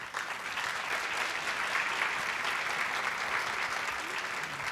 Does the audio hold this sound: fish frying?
no